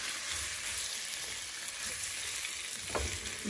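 Jamaican pepper shrimp sizzle steadily in hot oil while being stirred with a spatula, a loud, constant close frying hiss with a brief scrape near the end and no voices.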